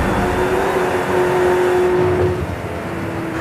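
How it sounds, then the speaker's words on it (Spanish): Engine of a Ford GT40 MK1 race car in Forza Horizon 5 drones steadily through a tunnel with echoing reverberation, a sustained loud hum that eases slightly toward the end. "Vamos a oír el eco del túnel."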